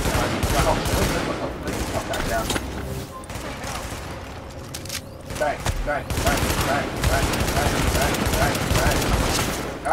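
Rapid bursts of video game gunfire from The Division rattle almost continuously at close range, with a brief lull in the middle before heavy firing resumes.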